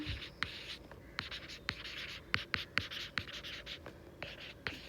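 A teacher writing a table on a board during a cost accounting lesson, quick scratchy strokes and taps repeating irregularly, close and fairly quiet.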